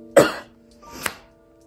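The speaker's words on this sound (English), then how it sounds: "I'm coughing." A woman coughs twice, a sharp, close cough followed by a softer one about a second later, with faint steady background noise in a quiet room.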